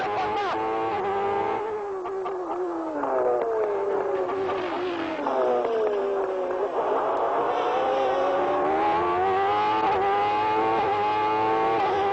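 A 1993 McLaren Formula 1 car screams through a fast lap, its high-revving engine rising and falling in pitch through gear changes, loud and continuous with no talking.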